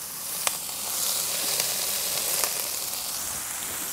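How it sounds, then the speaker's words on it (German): Mediterranean bratwurst sausages sizzling on a barbecue grill, giving a steady close hiss with a few soft pops and crackles scattered through it, with no voices over it. "die Thai-Barbecue und die mediterrane Bratwurst kommen jetzt auch direkt auf den Grill"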